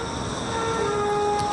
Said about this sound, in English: Train transfer station there.